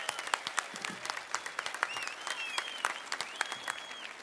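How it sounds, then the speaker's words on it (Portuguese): An audience applauds at an acoustic concert by a duo, steady dense clapping with sharp individual claps standing out and a few whistles over the crowd. "Tem que sair com palmas esse homem."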